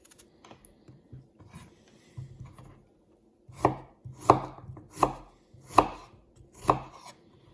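Crisp rhythmic scraping cuts of a Sanrenmu 9015 knife peeling the skin of a saucisson, about five sharp strokes, close up and alone after softer quiet rustling.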